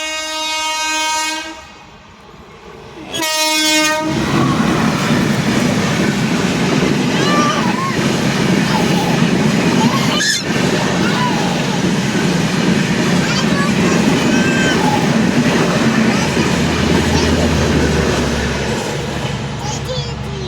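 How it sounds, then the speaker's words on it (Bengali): A train passes close by, starting with a loud horn blast and then a long, heavy rumble of rolling wagons and rail clatter that stays loud throughout, with a person talking faintly under the noise. "ওইদিকে ট্রেন আসছে আরো"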